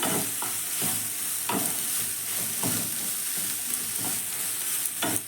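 Oil sizzles steadily as soybean chunks fry lightly in a pan, with periodic scraping and stirring strokes cutting through the continuous hiss.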